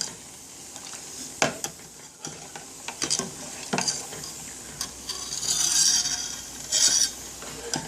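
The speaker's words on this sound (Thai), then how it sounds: "กะทิเริ่มแล้วก็น้ำคาราเมลเริ่มร้อนแล้วนะคะ เราก็ จะได้ยินเสียงมันเดือด" Coconut milk caramel bubbling and sizzling in a pan, with intermittent stirring scrapes and clinks scattered throughout, up close.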